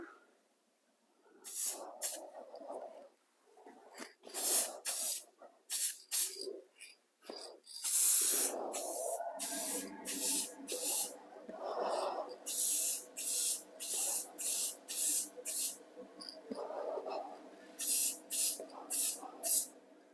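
Spray paint hisses onto the exterior of a plastic model car body, a 2021 Bronco, in many short, sharp bursts at a steady rhythm with brief gaps between them. A quieter continuous spray runs in the middle.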